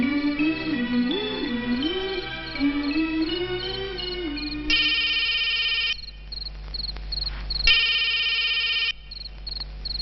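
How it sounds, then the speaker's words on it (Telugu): Telephone ringing in a Telugu action film scene, two long electronic ring bursts following a fading music bed, with crickets chirping beneath and no talk. "అన్నయ్య, అంజలి ఫోన్"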